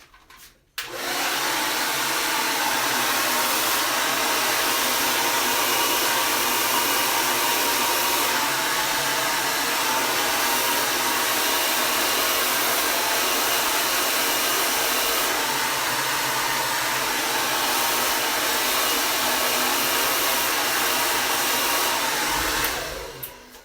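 A hair dryer on high heat and high blow switches on and roars steadily at full blast for the whole stretch, loud and close, then cuts off at the end.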